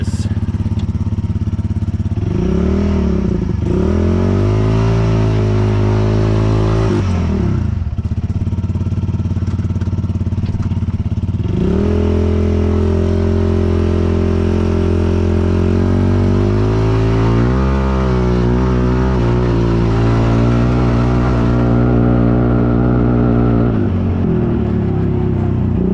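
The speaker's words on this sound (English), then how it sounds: "I'm obviously not gonna do like a full speed run. I just want to kind of get a feel for" Polaris RZR 200 side-by-side engine on a test drive, upgraded with chain, 12-tooth sprocket, clutch, ECU and exhaust, droning loud and close with revs rising and dropping in several pulls over the run.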